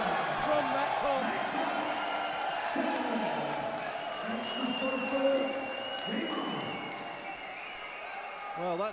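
A darts crowd at the German Darts Championship applauds and cheers a 104 checkout, a sustained wash of clapping and crowd noise under a commentator's voice.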